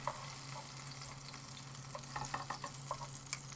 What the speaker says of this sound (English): And now I'm going to flip these tomatoes